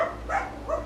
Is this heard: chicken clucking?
no